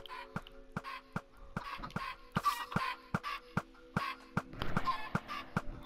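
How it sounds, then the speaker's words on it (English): Chickens cluck in the video game Minecraft in short, repeated bursts over a steady electronic hum, with sharp clicks scattered between the calls. "all the chickens are allowed to escape"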